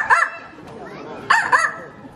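A voice imitates a dog's bark, giving two short, loud, husky bursts close to the listener with a brief pause between them. There is no other noise under them.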